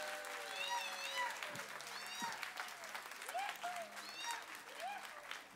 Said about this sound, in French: Alors, on va faire par applaudissement.